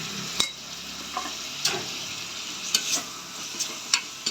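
Ginger garlic paste frying in a pan for beef gravy gives a steady sizzle, broken by several sharp scraping clicks of a utensil stirring against the pan.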